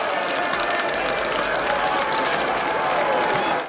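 A crowd in a fairy-tale film cheers in celebration at a royal birth announcement, a loud sustained wash of clapping and cheering voices that holds steady throughout before cutting off at the end.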